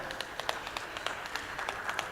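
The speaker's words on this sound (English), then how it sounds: "let's have a huge round of applause for this" A conference audience applauds to honor a speaker, with scattered, fairly faint individual claps at an uneven rhythm.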